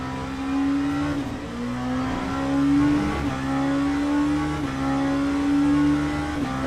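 A GT3 race car in a racing sim around Silverstone, its engine holding a steady high drone that climbs and dips through repeated gear shifts, loud and continuous with no talking.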